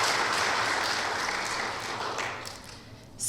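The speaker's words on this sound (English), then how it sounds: "I hope everybody will join me in giving a round of applause to this young man" At a public safety meeting in Auburn, Washington, a crowd applauds in a dense burst that tapers off toward the end.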